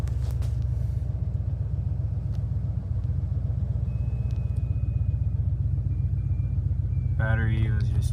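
An OBS Ford F250 truck with a 7.5L 460 EFI V8 and a newly fitted 250 amp alternator drives along with a steady, deep engine rumble heard from inside, and a voice speaks briefly near the end.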